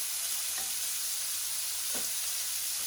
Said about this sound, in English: We are going to cook the shrimp for about 2 minutes